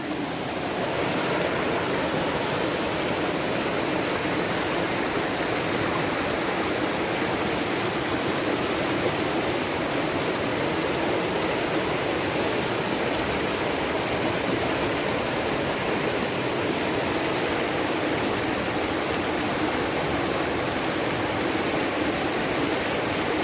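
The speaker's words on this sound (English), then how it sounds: "Listen to the water, guys, it's so relaxing." River water at a camping site in Vauxhall, St Elizabeth, Jamaica, rushes in a steady, unbroken wash of even hiss, moderately loud and continuous for over twenty seconds with no voices.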